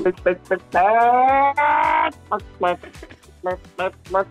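Chickens in a French henhouse, a run of short clucks and squawks with one long drawn-out honking call in the middle, close and fairly loud.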